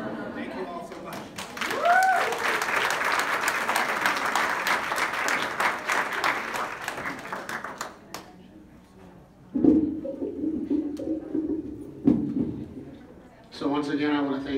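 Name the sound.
audience applause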